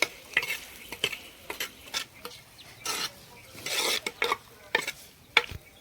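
Onions sauté in a pan for chicken gravy, with soft sizzling beneath repeated scraping strokes of a spoon stirring them, close and irregular.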